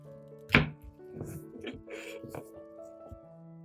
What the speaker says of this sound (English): First, cut the melon slice in half.